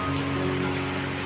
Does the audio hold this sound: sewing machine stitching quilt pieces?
no